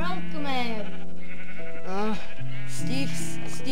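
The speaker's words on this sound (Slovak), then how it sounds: "našiel som tie ovce, takže ich zabijem" Sheep in the Minecraft video game bleat in several loud, wavering calls, one after another, close up and clear with no talk over them.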